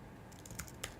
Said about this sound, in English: We'll type in Bolt